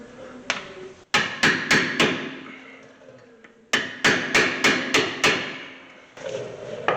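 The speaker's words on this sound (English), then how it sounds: "Use the hammer, not your hand." A hammer striking brake parts on a 2013 Hyundai Santa Fe to knock them loose, sharp metallic blows in two quick bursts of four or five hits each, close and loud, with pauses between.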